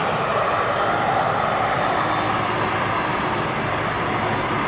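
An aircraft landing at East Midlands Airport during an airshow event, heard as a steady, broad engine roar close by, with little sign of reverse thrust and no talk over it.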